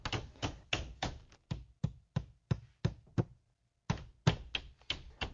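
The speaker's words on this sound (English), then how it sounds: "once there's enough nails in to hold it up, we finish nailing it off" A hammer drives nails into the drywall top plate of a wall with a run of sharp, evenly paced knocks. There is one short pause before the blows resume, all close and loud with no talk.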